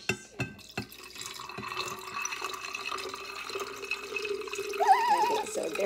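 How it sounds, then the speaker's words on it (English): Water pouring and splashing into a container, with a few dripping plinks at the start, close and moderately loud, a faint voice in the background. "now we're gonna add some water"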